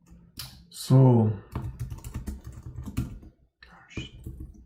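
Computer keyboard typing during a coding session on a GPU driver, with scattered key clicks running through most of the stretch, partly under a voice that talks briefly near the start.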